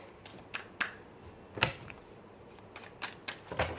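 A tarot card deck is shuffled quietly and close by, in short, crisp riffling bursts with brief pauses between them. No one speaks.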